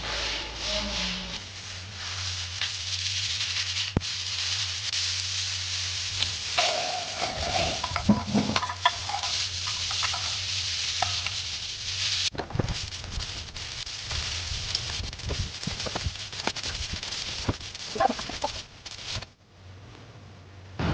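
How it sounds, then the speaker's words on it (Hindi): Hot oil sizzling and crackling steadily in a pan while tempering dal fry, with stirring scrapes and clatter up close throughout. "जा रही हूँ अब मैं दाल फ्राई में तड़का लगाने के लिए"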